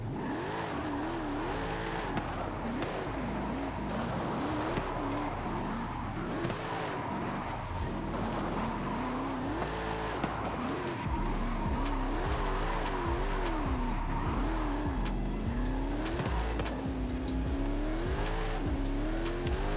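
A Mercedes AMG E55 wagon drifts downhill in Forza Horizon 5, its engine revving and wavering constantly while tires squeal and skid through the turns, loud and continuous throughout.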